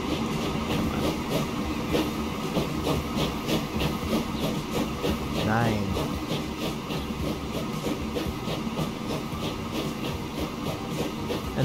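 A slow, heavily loaded-sounding train chugs along at about ten miles an hour in the video game Transport Fever 2, with steady rhythmic clatter and hiss and a brief whistle-like rise midway, no voices.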